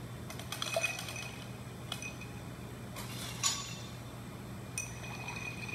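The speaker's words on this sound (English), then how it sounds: "So now let's go ahead and add our ice and stir it." Ice clinking against a glass while a bartender stirs a cocktail, giving light, scattered chimes and taps over a low steady hum, fairly close and not loud.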